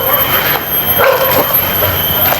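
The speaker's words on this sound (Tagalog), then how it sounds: "So dito may mga aso dito, siguro mga asong gala ito kasi nasa gitna talaga tayo ng gubat ngayon." Stray dogs bark and yip in a forest, a few short calls rising over steady background noise, with someone talking over part of it.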